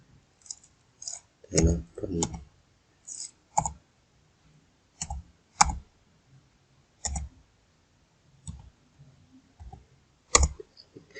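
Someone types a student ID number into a website form, producing a series of distinct, sparse clicks and taps at an irregular pace, fairly close and clear with silence between them.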